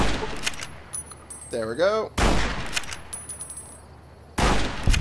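Gunfire in Fallout: New Vegas: a loud broadband burst at the start, another near the two-second mark and a third near the end, with a short spoken remark between shots and a steady low game hum underneath.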